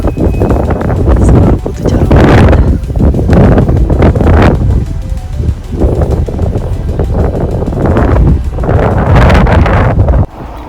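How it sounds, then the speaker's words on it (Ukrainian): Loud gusts of strong spring wind batter the microphone outdoors in heavy surging waves, roaring and rumbling, easing briefly before building again, then dropping off at the end. "у нас сьогодні такий вітер"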